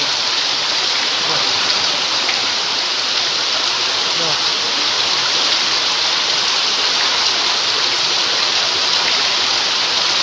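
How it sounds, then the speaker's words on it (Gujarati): Heavy downpour in Surai village, Surendranagar district, with water running off, a dense, unbroken roar of rain and flowing water, loud and close the whole time. "સુરેન્દ્રનગર જિલ્લામાં જોરદાર વરસાદ"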